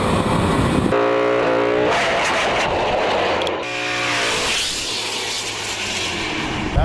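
A hot rod car performing burnouts at a race track, its loud engine roaring and revving continuously with rising and falling pitch, close by and steady throughout, with no one talking over it.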